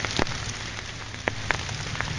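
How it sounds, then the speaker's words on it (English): Morning rain falls steadily on a yard with a few small pools of water, a close, even hiss broken by occasional sharper drops, with no voices. "So it's raining this morning."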